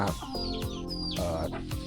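Backyard village chickens of ordinary Thai native breed cluck steadily and close by, with overlapping hen calls and a busy flock murmur throughout, no voices.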